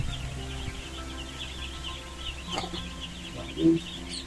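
A flock of lively farm chickens clucking and calling in short bursts, moderately close, with one louder call near the end over steady background noise.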